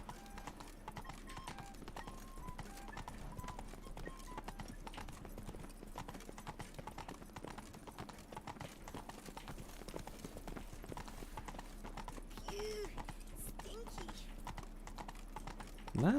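Horse hooves clip-clopping steadily in The Witcher 3 (Blood and Wine), a continuous even trot under a voice, with a brief neigh-like sound near the end.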